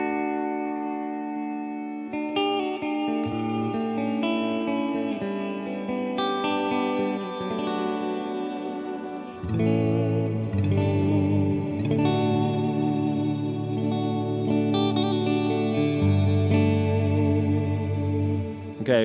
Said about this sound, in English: it's where all the ethereal, spatial type cool reverb lives